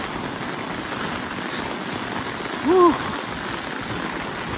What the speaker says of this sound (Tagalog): Tingnan mo lakas ng bala ng ulan.